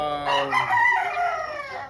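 A pure white Kelso gamecock with a straight comb crows once, close and loud, in a rising and falling call of about a second and a half.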